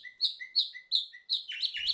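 Small birds chirp near and clear in quick repeated two-note calls, bright and sharp, with a brief flurry of overlapping tweets at the end and no talk.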